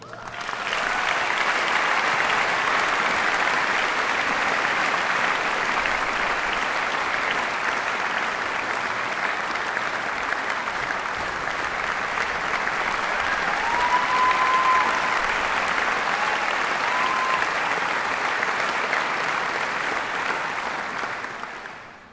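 Sustained applause from a concert hall audience at an organ concert in the KKL Luzern, steady and full throughout, welcoming performers onto the stage.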